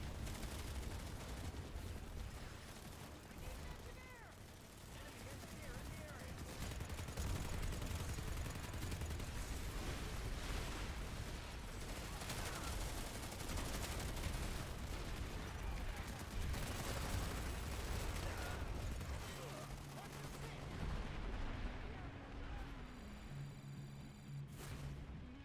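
Dense, continuous gunfire and explosions in the online shooter Planetside 2, overlapping rapid shots and booms without pause across the whole stretch, with a voice talking intermittently over it.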